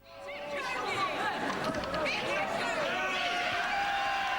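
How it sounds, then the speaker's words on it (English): A wrestling crowd at an FWA show cheers a wrestler: a loud, sustained roar of chatter and shouting voices that swells within the first half-second and holds steady, with a commentator's voice riding over the noise. "The fans cheering him on,"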